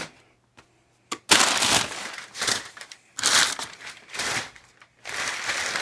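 Bursts of crinkling and tearing cardboard and plastic come up close as scissors cut open a keyboard box, loud irregular rustles separated by short pauses.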